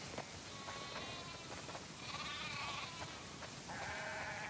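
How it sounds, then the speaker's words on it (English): Several sheep bleat one after another in the video game The Last of Us Part II, over a soft, steady background hiss, the calls clear and moderately close. "Wow, that's a lot of sheep."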